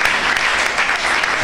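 Steady, dense applause from a church congregation, loud and continuous for its short length with no pauses.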